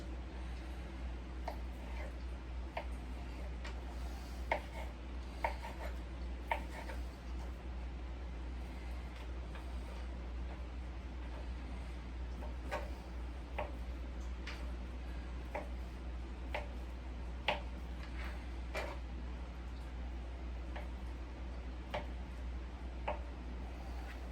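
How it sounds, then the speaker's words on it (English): A knife cuts mozzarella into small cubes: faint, evenly spaced taps against a cutting board repeat over a low, constant hum, with nobody talking. "I'm going to go ahead and cut this mozzarella also into some small cubes."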